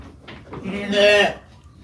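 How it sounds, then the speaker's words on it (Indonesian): Breeding sheep and young lambs in a demonstration pen bleat in a brief, moderately loud call that swells and fades, with soft background noise around it. "Ini domba-domba yang percontohan."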